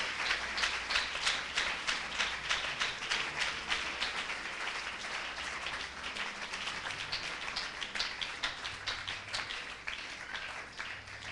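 A church congregation applauds steadily and rhythmically, dense clapping sustained throughout at an even, lively pace with no speech over it.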